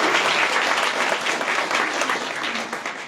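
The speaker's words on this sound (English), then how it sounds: "Big round of applause for them." A big round of applause at a school board meeting, honoring a culinary group: a room full of people clapping steadily and loudly for a few seconds, tapering slightly at the end.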